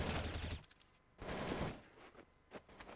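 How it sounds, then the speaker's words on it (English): A burst of rapid gunfire from the Counter-Strike Promod tactical shooter, dense, close and loud, repeating in a few clustered volleys with short gaps, and no voices over it. "Shot rattled off by Guardian down to the right"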